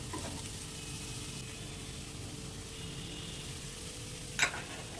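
Chopped capsicum and cabbage sauté in hot oil, giving a steady low sizzle with a brief sharp clink of a spatula near the end, with no voices.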